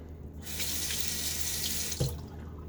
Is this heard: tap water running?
yes